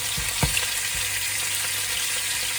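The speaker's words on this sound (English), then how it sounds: "I'm going to get browning these either side to a nice dark colour" Wagyu beef short ribs sear in a hot pan, giving a loud continuous sizzle with a few brief spits and pops at the start, no voices.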